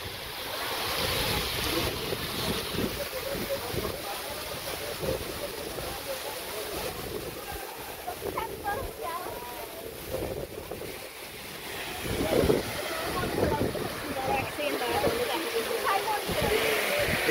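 Khandadhar waterfall in Keonjhar, a broad continuous rushing roar of falling water close by, buffeted by wind noise on the microphone, with people talking over it.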